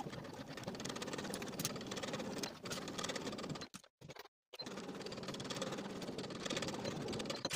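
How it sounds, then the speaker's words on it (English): A home sewing machine runs steadily as it stitches a cuff onto a sleeve with a 5/8 inch seam, its fast even hum holding close and loud, broken by a brief pause before resuming. "Then we'll stitch the cuff to the sleeve with a 5/8 inch seam allowance"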